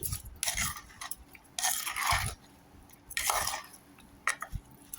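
Mango pickle pieces being stirred with sesame oil in a bowl or pot, giving scraping, clinking bursts of the utensil against the vessel in a few separate rounds, fairly close, with no talking.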